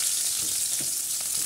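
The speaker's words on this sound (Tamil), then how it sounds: "எண்ணெய் கொதிக்குது." Oil sizzling steadily in a hot pan, a continuous bright hiss with faint crackles and no voices.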